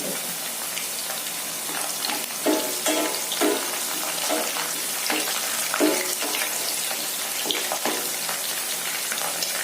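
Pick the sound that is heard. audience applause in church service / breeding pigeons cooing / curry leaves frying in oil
curry leaves frying in oil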